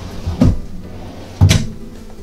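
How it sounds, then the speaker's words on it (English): Two soft-close cedar-lined drawers in a 2017 Dynamax Isata 3 24FW motorhome shutting, each a dull, cushioned thump with a short rumble, about a second apart, loud and close. "Some more soft close drawers."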